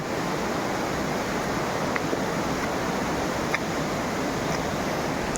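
Floodwater rushing after torrential monsoon rain in the Konkan countryside, a constant dense roar of churning water, loud and even, with no voices over it.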